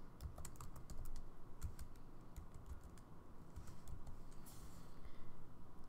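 Rapid typing on a computer keyboard, a close, quiet run of irregular clicky keystrokes with short pauses, heard alone without talk.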